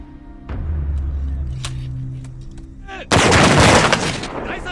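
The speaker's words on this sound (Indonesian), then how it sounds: "Pada suatu hari saat Nathan melatih tentara kaisar menembak" Rifle fire from soldiers at shooting practice in a samurai war film, a low rumble followed by a sudden loud volley of shots that dominates the end.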